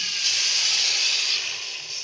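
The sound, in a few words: sizzling as spices and chicken stock are roasted in a pan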